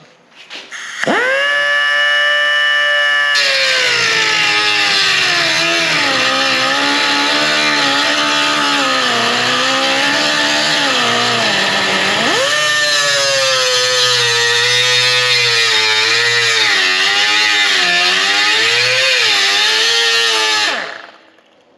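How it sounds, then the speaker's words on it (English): A cutoff wheel slicing through a car door, a loud, steady high-pitched grinding whine that starts abruptly, wavers in pitch as it bites, dips briefly midway, then runs on before spinning down, close and continuous with no talk. "So we're going to use the cutoff wheel, and we'll go to it."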